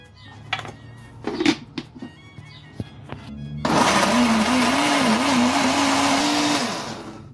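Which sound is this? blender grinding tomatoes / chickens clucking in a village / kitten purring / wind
blender grinding tomatoes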